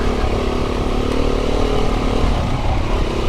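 An off-road dirt bike rides along a green lane, its engine droning loudly and continuously with some clatter, close up and unbroken, with no talking.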